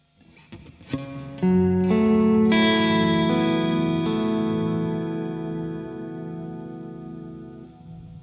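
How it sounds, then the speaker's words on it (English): Sustained electric guitar chords play through an MXR M300 reverb pedal on its Pad setting, swelling into a lush wash with low underlying tones that hang and slowly fade over several seconds. "the last reverb on this is the pad"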